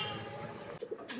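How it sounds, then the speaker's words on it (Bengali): A pigeon gives a short, soft coo, faint and close, over a quiet background hum. "এখানে অনেক কবুতর আছে"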